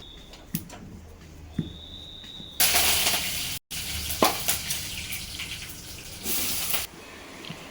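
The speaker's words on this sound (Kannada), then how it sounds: "ಇದನ್ನು ಎಣ್ಣೆಲಿ ಹಾಕಿ ಕರ್ಕೊಳ್ಳೋದು." Dhapate, a North Karnataka sesame-topped flatbread, frying in hot oil: bursts of bubbling sizzle come and go over faint background noise, with occasional clatter in between.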